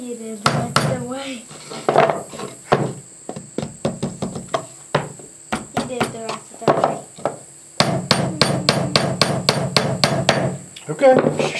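Hammer blows drive nails into a wooden birdhouse in irregular bursts, sometimes single knocks and sometimes quick runs of strikes, close and loud, with people talking in between.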